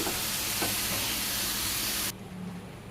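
Papaya bhaji with turmeric, chili, salt, onion and green chili fries in a pan with a loud, steady sizzle that drops off sharply near the end, leaving a softer hiss.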